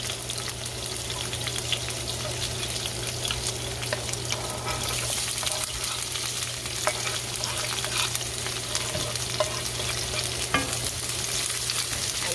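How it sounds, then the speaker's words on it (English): Onion, scallion, garlic and Scotch bonnet pepper sauté in a pan on medium-high heat for Jamaican callaloo and saltfish, making a steady close sizzle and hiss with occasional stirring scrapes and clicks, no talking. "Just gonna let that saute down a little bit, just to cook the vegetables out a little bit"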